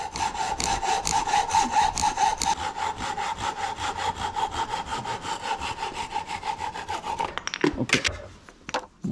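A handsaw cuts through a wooden table leg in a rough DIY job, with steady, rhythmic back-and-forth strokes close by for about seven seconds, ending in a few knocks and scrapes as the cut finishes.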